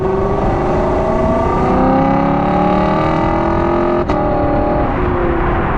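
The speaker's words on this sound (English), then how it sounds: "incredibly satisfying engine note, and it's the best half throttle car I've ever heard" A loud 5-liter V8 engine roars as a Lexus LC500 accelerates at half throttle, rising tones climbing through gear changes with a booming brief break in the middle.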